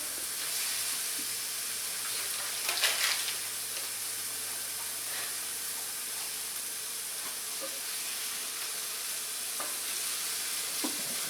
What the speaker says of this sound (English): Sizzle and turn it down a little bit more.